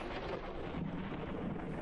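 Stormy weather in the survival game Forever Skies, a continuous dense rumble of thunder and wind-driven noise holding steady and loud throughout with no voices.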